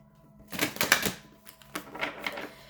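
An oracle deck, the Green Witch's Oracle, shuffled by hand, giving several quick papery riffling bursts, the loudest early and then fainter flutters, close and without talk.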